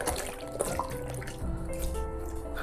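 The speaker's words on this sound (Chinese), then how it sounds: "然后把香菇头洗一遍。" Shiitake mushroom caps, stems already removed, being rinsed in water at a sink, with steady running and splashing water and small drips throughout, close and moderately loud.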